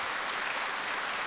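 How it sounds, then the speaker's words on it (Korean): A church congregation claps during a Sunday service, a dense, steady wash of applause from the crowd with no voices over it. "예, 한번 박수해 주시죠."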